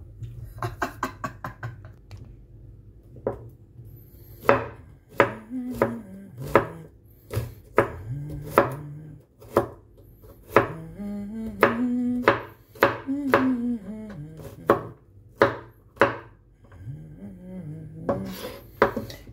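Kitchen knife chopping ingredients on a cutting board: a close series of sharp, uneven knocks that speeds into quicker bursts, with faint tonal sounds in the background.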